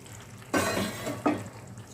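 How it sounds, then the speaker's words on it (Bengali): Pomfret fish pieces drop into a simmering spiced curry, giving two short, close splashy sizzles less than a second apart over a quiet kitchen background. "এবার আমি এর মধ্যে মাছগুলো দিয়ে দিচ্ছি।"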